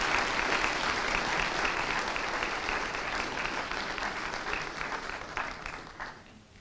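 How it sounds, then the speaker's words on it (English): A seated audience at the 52nd annual Charles W. Fornoff Competition gives the competitors a sustained round of applause, a dense steady clapping that slowly thins and fades out near the end, with no talking. "if we could get a round of applause for all of our competitors for their great work"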